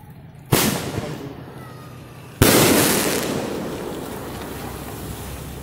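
Fourth of July fireworks boom twice from a bridge, each a sharp loud blast followed by a long rumbling decay carried over steady outdoor background noise.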